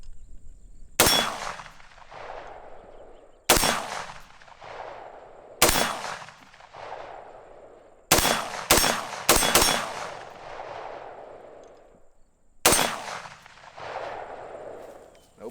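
A .223 rifle with a 20-inch barrel firing Freedom Munitions 42 grain lead-free rounds outdoors: six loud, sharp single shots at irregular intervals, each followed by a long decaying echo.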